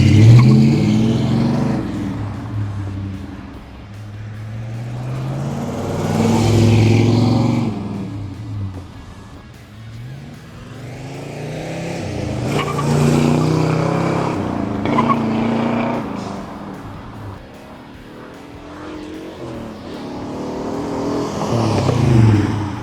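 A 1967 Pontiac GTO roars past several times, each engine surge swelling loud and close before fading, with a throaty V8 rumble between passes.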